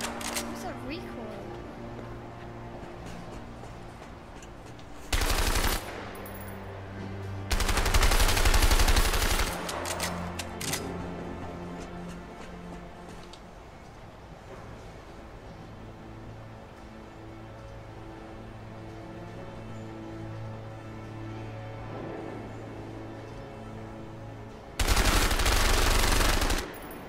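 Gunfire in A Way Out arrives in a few short, loud bursts separated by long quieter stretches of game ambience and music, with a voice talking in the gaps.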